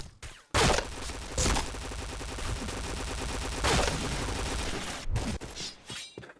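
Rapid, dense gunfire from the online shooter Point Blank, with bursts and sustained automatic fire layered over game effects, loud and continuous with brief pauses, and no talk.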